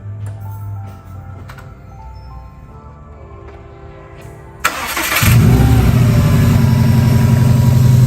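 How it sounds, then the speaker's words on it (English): A car engine fitted with an IAG AOS system cranks briefly and fires up loudly, then settles into a steady, deep idle that continues to the end after a quiet lead-in; no voices. "Start the motor on. Let's see how she sounds."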